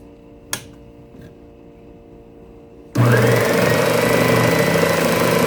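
Belt/spindle sander working on a cigar box guitar switches on after a click and near-silence, then runs as a loud, steady whirring drone with a hum underneath.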